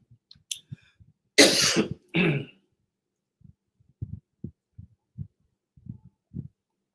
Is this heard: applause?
no